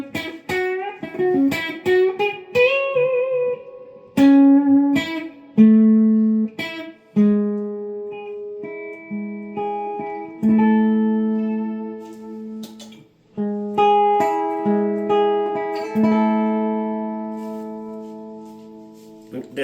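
An electric guitar runs through fuzz and drive pedals and a UAFX Dream pedal into a Deluxe Reverb amp, playing a phrase of plucked notes and sustained chords with pauses between, clear and close with no talking.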